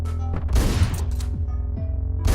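Several loud, booming shotgun shots go off in quick succession in the video game Hotline Miami, with metallic clacks between them.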